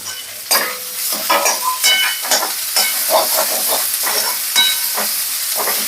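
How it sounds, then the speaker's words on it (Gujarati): Green garlic and green onions sautéing in a pan, with a close, loud sizzle broken by repeated scraping stirs at an uneven rhythm, and no talking. "આપણે આ લીલું લસણ જે લીલી ડુંગળી લીધી છે એ નાખી દેશું એમાં"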